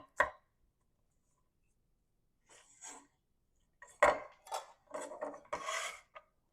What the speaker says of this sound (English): we'll get this onion cut up